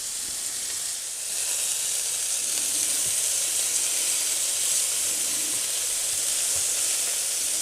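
Monkfish frying in hot olive oil in a pan, a steady loud sizzle and hiss that holds throughout with no talking.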